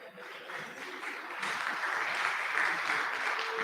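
An audience claps during an online meeting for National Archives Awareness Week, starting as a thin patter and quickly swelling into steady, fairly distant applause that lasts several seconds.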